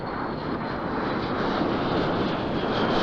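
A de Havilland Vampire FB.52 jet with a Halford H1 Goblin turbojet roars overhead in a loud, steady, broadband rush that swells slightly as it passes.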